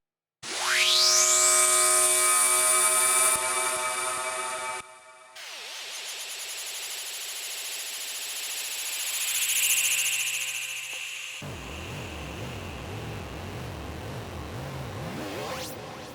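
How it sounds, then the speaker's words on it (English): Synth riser from a randomized plugin patch: a bright tone sweeps sharply upward and holds, then shifts into a shimmering, wavering texture, swells, and ends on a buzzing, warbling tail. "you can just imagine how easy it is to get a unique sounding riser or downshifter with this plugin"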